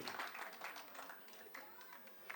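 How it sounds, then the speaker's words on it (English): Audience applause at a school annual day stage show, dense and steady clapping from a crowd that carries on without pause for a couple of seconds. "Can we have a big round of applause?"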